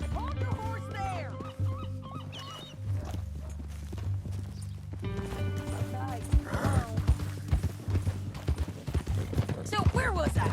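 Steady hoof clip-clops from a horse in Red Dead Redemption 2, under sustained musical tones and intermittent talking, with birdlike quacks here and there.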